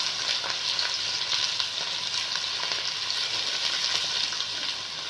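Two large onions fry in hot oil, giving off a steady, bright crackling sizzle with faint stirring clatter, loud and close throughout with no talk.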